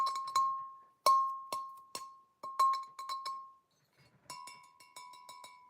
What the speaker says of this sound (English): The sound of the tinkle on the glass